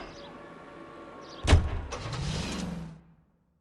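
A car in the L.A. Noire video game: a sudden loud thump like a door closing, then a short motor whir that fades into silence, heard alone with no talk.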